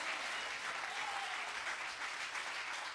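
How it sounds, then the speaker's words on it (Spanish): A church congregation applauds in a sustained, even burst of clapping that holds at a steady level, sounding full and somewhat distant across the room. "Dele fuerte ese aplauso."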